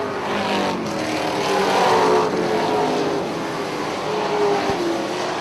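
Stock race cars roar around the oval at Punta Gorda Speedway, a dense, continuous engine drone with leaders working through lapped traffic, rising and falling as cars pass close by, with no talk over it.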